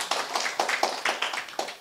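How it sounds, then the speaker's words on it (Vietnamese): Audience applause at a Buddhist dharma talk: a short burst of scattered, uneven hand claps from a small group, close and fairly lively. "cho anh này tràng pháo tay"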